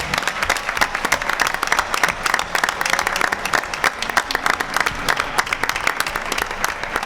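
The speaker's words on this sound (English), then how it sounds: "If we could have one last round of applause," An audience at a school committee meeting applauds its football team, with dense, lively clapping that runs steadily at a strong level throughout without any talking over it.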